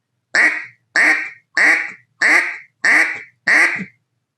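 Six evenly spaced quacks are blown on a duck call, each a loud, close, raspy burst of about half a second, separated by short silences and ending with a slightly drawn-out final note.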